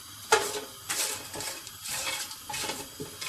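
Shahi jeera being sautéed in a pot for restaurant-style vegetable biryani, heard as a run of metallic scraping and clinking from a spoon against the pot, with a faint sizzle underneath and no talking.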